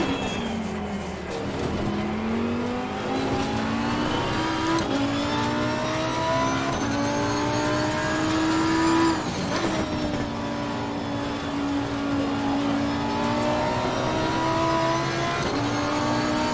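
A race car engine in the Assetto Corsa Competizione video game revs loudly and continuously, with rising gear-by-gear pitch sweeps and shifts up and down, no talk over it.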